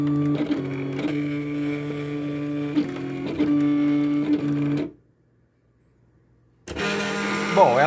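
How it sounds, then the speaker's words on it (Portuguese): A Silhouette Cameo cutting machine slices paper boxes, giving a mechanical whirring hum with rhythmic motor steps and small taps, then stopping briefly to silence before starting up again, with speech faintly present. "Não dá pra, pra mostrar pra vocês que a máquina tá cortando aqui."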